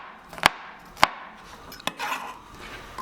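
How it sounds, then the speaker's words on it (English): A knife slices garlic cloves in a few sharp, separate cuts, two crisp strikes close together and then a softer one followed by a brief scraping rustle, close and clear with no talking. "And slice a couple of garlic cloves"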